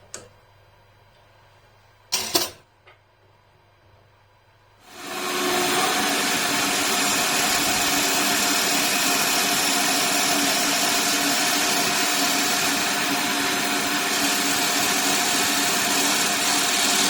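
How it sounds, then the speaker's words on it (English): Drill boring holes into a 20p coin puzzle ball, starting after a few seconds of quiet with two brief knocks, then a loud, steady whirring grind that runs unbroken to the end. "I didn't reverse the drill in and out, because I noticed the chips were feeding down the flutes"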